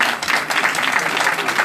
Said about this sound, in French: On peut les applaudir si vous voulez bien